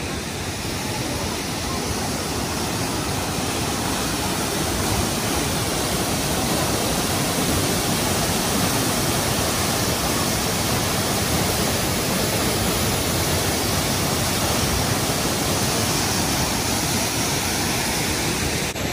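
Triberg waterfall in the Black Forest, Germany, roars as a loud, steady, dense rush of falling water with no break for the whole stretch, close by and without voices.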